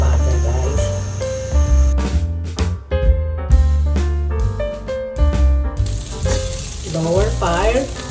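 Butter hits a hot pan and sizzles loudly, mixed with clanking and scraping from a utensil against the metal, and a short burst of bubbling hiss at the end.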